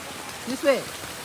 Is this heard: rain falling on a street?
yes